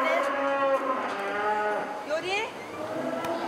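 Cattle moo close by near a mother cow's pen on a farm as a calf lingers outside, giving long drawn-out lowing calls that overlap one another throughout.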